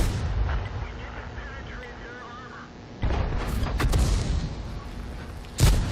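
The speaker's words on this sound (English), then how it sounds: "And I am shooting high explosive rounds." Tank cannons fire high explosive rounds in the World of Tanks video game, with heavy booming shots and sharp blasts over a rumbling battlefield background; one loud report lands near the end.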